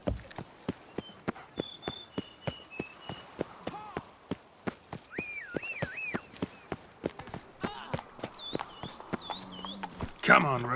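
Roach, the horse in The Witcher 3, trots with steady, regular hoof clip-clops, while musical tones and a brief voice sound over the hoofbeats and a sharp burst comes near the end.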